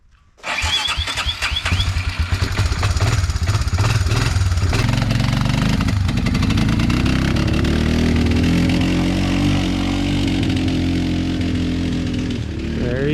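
A vehicle engine at an off-grid log cabin homestead cranks briefly, then catches and roars into a loud, steady idle with rising revs, close and continuous over about thirteen seconds, with no talk.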